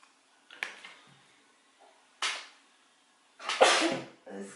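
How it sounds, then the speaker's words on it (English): Someone sneezes while preparing cream-cheese-stuffed jalapeño peppers, with a few short, sharp bursts separated by quiet pauses and a final louder, close sneeze. "Pepper makes you sneeze."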